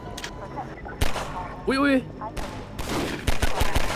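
Gunfire in the video game Half-Life 2, sharp shots and rapid bursts spaced across the moment, with a brief exclamation from a voice between them.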